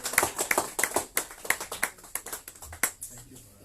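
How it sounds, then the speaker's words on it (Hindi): A church congregation claps to welcome the pastor to the pulpit, giving a brisk run of many near, overlapping claps that start loud and gradually ease off. "हम लोग ताली से इसके स्वागत करेंगे"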